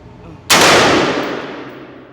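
A single sharp AR-15 rifle shot cracks out loud and close outdoors, followed by a long rolling echo that fades over a second and a half.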